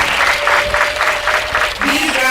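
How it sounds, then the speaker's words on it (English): An audience at a child participation consultative meeting claps for Brian, steady dense applause filling the room throughout, close and loud. "we can clap a little bit for him"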